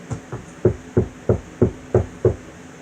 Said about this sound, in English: Mario knocked on the door.